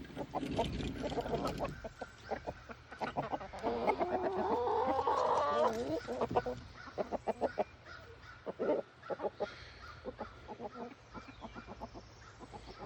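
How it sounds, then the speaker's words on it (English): Chickens clucking in short, repeated bursts, close by and fairly loud, with a busy, continuous flock chatter underneath. "First, I'll let out the other chickens."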